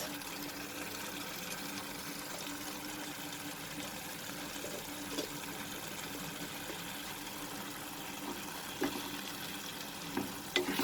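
Raw papaya curry seasoned with garam masala and fresh coriander is stirred in a pan, a steady close sizzle with light scraping and a few sharper utensil taps toward the end.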